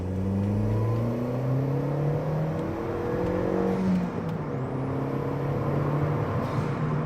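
A MK1 Skoda Octavia vRS engine pulling hard, revs climbing in repeated rising sweeps through gear changes, loud and close from inside the car with steady road roar beneath.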